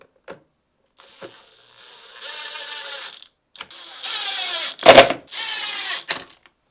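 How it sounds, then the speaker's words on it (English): Screws being driven back into a GE refrigerator door control board assembly, the dispenser-powering board: scattered clicks, short mechanical whirring bursts and a loud clattering knock near the end, with no talk. "Set the assembly in place and reinstall the screws."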